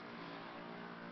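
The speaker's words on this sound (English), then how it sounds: "one of our neighbors is at it with his snowblower right now" A neighbor's snowblower runs steadily outdoors during a heavy snowstorm, a continuous mid-distance engine drone with no break in its level.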